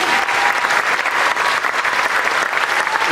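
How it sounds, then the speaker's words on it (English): Loud, dense applause from a large crowd fills the whole stretch, steady and sustained without pause. "Please give them all a gigantic round of applause."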